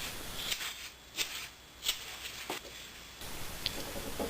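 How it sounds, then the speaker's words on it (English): A carving knife rounding the edges of a wooden tenon, heard as a few sharp, dry cutting scrapes spaced about a second apart, close and fairly quiet, with a faint high whine in the background. "Next I round the edges of the tenon with a carving knife."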